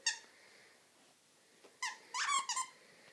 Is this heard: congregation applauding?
no